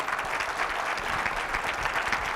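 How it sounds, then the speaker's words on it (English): An audience at a speaker series talk gives a round of applause, with dense, steady clapping that carries evenly at full strength for the whole stretch. "You'll give them a round of applause."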